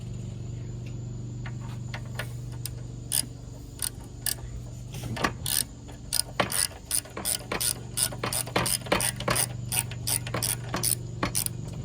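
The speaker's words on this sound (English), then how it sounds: "And now we can take the second bolt off from the side." A ratchet loosens a bolt on a Troy-Bilt lawnmower carburetor: bursts of sharp, rapid clicking repeat close by over a steady low mechanical hum, with quieter ticks between, and no talking.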